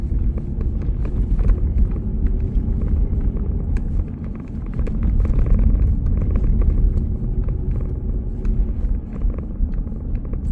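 A car drives at night through a residential North Jersey neighborhood toward Wyckoff, its steady low road and engine rumble continuous and close, with a slight swell midway.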